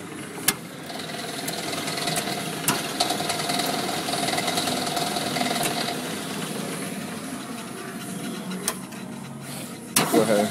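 A JACO coil cradle straightener runs in reverse, giving a steady low mechanical hum and whir punctuated by occasional sharp clicks and knocks, with people talking faintly.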